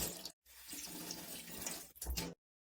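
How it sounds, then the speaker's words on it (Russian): Water splashes onto a knife-sharpening whetstone, a close, quiet running-water hiss that stops briefly, resumes, then ends in silence. "Беру брусочек и смачиваю его."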